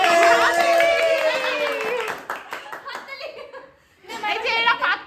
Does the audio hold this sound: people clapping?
yes